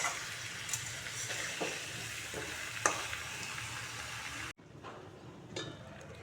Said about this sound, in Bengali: এখন চিকেনটাকে ঢেকে ঢেকে খুব ভালো করে কষিয়ে নেব।